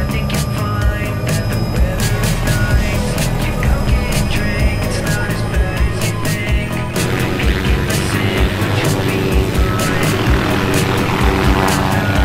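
Helicopters arriving at a gathering of some fifty aircraft, with a steady loud rotor and engine roar throughout, rhythmic blade chop pulsing, and the pitch and mix shifting midway as another machine passes close.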